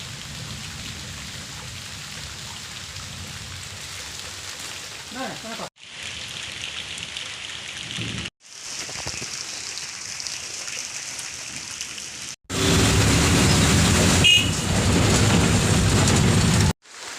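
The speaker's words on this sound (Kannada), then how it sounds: "ಮಳೆ ಬರ್ತಾನೆ ಇದೆ." Rain falling in a village during the rainy season, a continuous hiss of drops on surfaces, steady and fairly close, growing heavier and louder toward the end, with brief cuts between takes.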